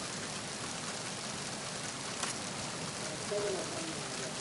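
Steady broadband rain pours in the Metal Gear Solid 2 video game, a constant hiss of falling drops in the open air that fills the whole stretch, with no voice over it.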